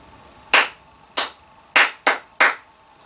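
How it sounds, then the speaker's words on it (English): Five sharp single hand claps, close and crisp, spaced to form a short rhythm pattern for a school music-making exercise, each followed by a quick room decay and quiet gaps between. "So if I clap"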